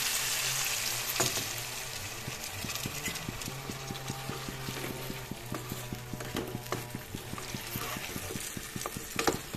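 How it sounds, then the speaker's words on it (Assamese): Boroli fish frying in a pan as small splashes of water hit the hot oil, producing a crackling sizzle with rapid, regular spatter pops and occasional stirring clicks, close and steady. "ইয়াতে এতিয়া পানী দিম মই অলপ"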